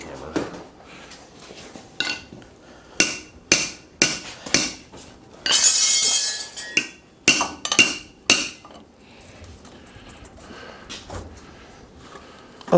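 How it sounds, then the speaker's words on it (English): A big hammer strikes a cheap pickle fork wedged against a car's ball joint, ringing out in a string of sharp metallic blows, some spaced and some in quick pairs, loud and close. A longer grinding scrape falls midway through. "Big hammer."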